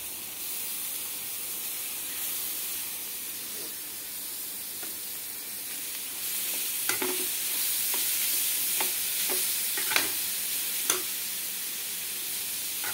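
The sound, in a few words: stirring grated carrot into fried onions in a pan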